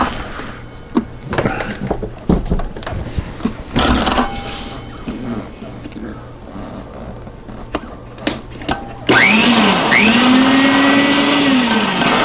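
Home Geek electric meat grinder plugged in and switched on, its motor starting with a rising whine and running at a steady loud hum, preceded by handling clatter and clicks.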